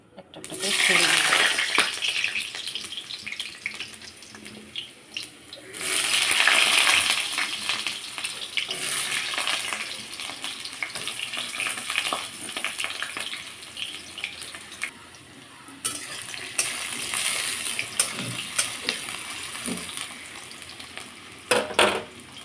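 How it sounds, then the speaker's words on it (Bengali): Potatoes dropped into hot oil in a home kitchen, giving a loud hissing sizzle that surges in waves and settles into steady crackling, close by, with brief clatters from handling. "তেলটা গরম হয়ে গেছে আমি আলুগুলো"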